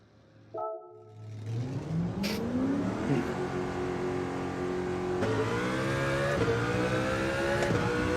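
A race car engine in the video game Gran Turismo 7 revs and accelerates steadily, rising in pitch through gear changes, loud and close, with no talking.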